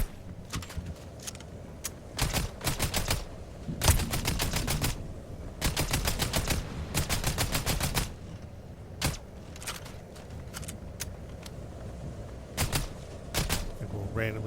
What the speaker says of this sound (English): Let him shoot off the arc gun there